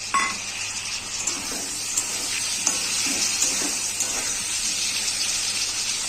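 Potatoes fry with salt and turmeric in a pan as tomato is added, giving a steady loud sizzle with faint stirring scrapes and no speech.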